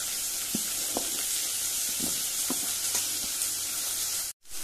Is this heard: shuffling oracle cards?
no